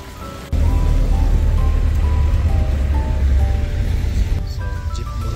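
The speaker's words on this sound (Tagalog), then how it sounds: "Lakas ng ulan, ang lamig." Heavy rain pours on a street in Baguio, a loud, steady broadband hiss that begins abruptly after a quiet moment and stays constant, with faint traffic beneath it.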